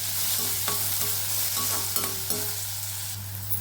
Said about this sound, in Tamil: இதோட வெங்காயம், இது எல்லாத்தையும் நல்லா வதக்கிக்கலாம்.